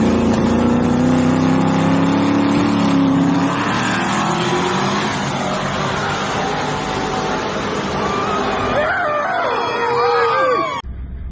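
Drag race cars launching at a track, a loud roaring engine and tire noise that holds steady for several seconds, then fades as the cars pull away with distant whine and crowd-like noise underneath.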